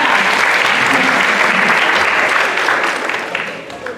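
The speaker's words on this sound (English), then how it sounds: "Can we give that day a round of applause?" An audience at a middle school band spring concert claps loudly. The dense, steady applause fills the room and begins to fade toward the end.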